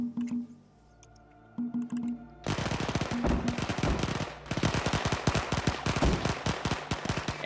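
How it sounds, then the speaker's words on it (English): Machine gun fire in a military video game: after a quieter opening with a low tonal hum, dense rapid bursts of automatic gunfire erupt and continue loudly, with a short pause before resuming. "those machine guns are working"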